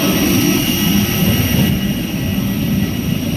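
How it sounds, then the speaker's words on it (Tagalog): Loud, steady jet engine roar from a passenger airplane at an airport, a continuous near rumble with a high whine, holding level throughout. "Sakay ka sa airplane."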